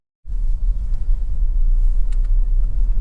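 A 2.0 i-VTEC Honda CR-V Black Edition 4WD engine starting up and idling, a steady low, close rumble that holds evenly after a sudden onset.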